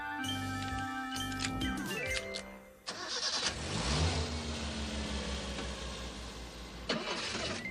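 A car engine cranks and starts, then rumbles and revs up loudly close by, settling into a steady running drone with a brief surge near the end.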